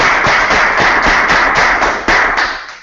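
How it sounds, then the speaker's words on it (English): An audience applauds after a talk on the AMS-02 experiment: steady, loud clapping that fades slightly toward the end. "applause"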